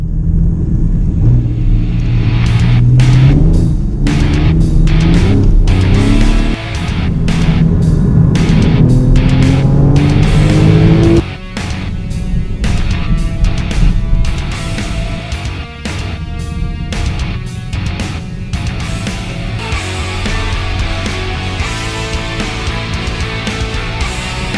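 Porsche Boxster GTS driving, a loud continuous engine note rising and falling through gear changes, with road rumble and rattling clicks throughout, no talking.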